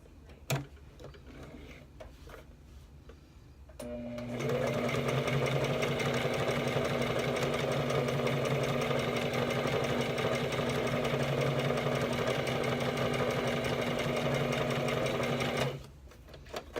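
A sewing machine stitches a seam in one long steady run, a loud even mechanical hum with rapid needle clatter lasting about twelve seconds, preceded and followed by a few faint handling clicks.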